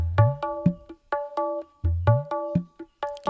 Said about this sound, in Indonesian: Ini suara gendang.